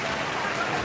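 A brief stretch of heavy unseasonal rain at a Boisar vegetable market, a soft steady wash of falling water heard alone.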